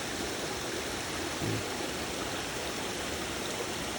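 Water flowing weakly out of an underground tunnel makes a steady, even rushing hiss, unbroken and moderately close, with no voices.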